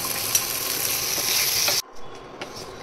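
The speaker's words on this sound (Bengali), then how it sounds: "গোটা গরম মশলা, একটু সাদা জিরে, গোলমরিচ এর মধ্যে দিয়ে ভেজে নেব।" Whole garam masala, cumin and pepper fry with tomato in a pan, giving a loud, dense, close sizzle that runs steadily and then cuts off abruptly, leaving a quieter stretch.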